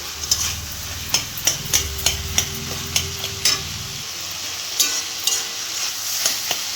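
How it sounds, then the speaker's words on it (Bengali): Potatoes and vegetables being mashed in a frying pan, a spatula tapping and scraping the pan in a quick run of sharp clicks over a low sizzle that quiets halfway through. "আলুটাকে ভালো করে একটু ভেঙে নেব"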